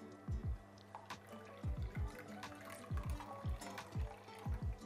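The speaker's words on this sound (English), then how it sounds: "we're going to add some water" Water is poured into a bowl of beaten egg mixture for steamed egg custard, a run of close glugging bubbles in uneven bursts, fairly quiet with no talk.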